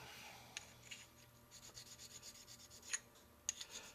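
A lathe tool is rubbed on a square carborundum stone with quiet, irregular rasping strokes and a few sharper scrapes.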